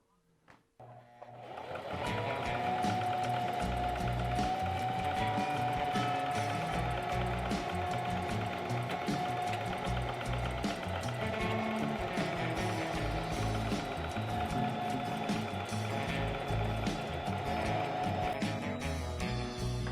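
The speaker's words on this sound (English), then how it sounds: "now I'm just going to throw some stitching along the edge of it to fully secure this piece on here besides just the glue" A sewing machine stitches along the edge of a custom BMX bike seat cover being reupholstered, a steady close whirring hum that runs continuously after a brief start.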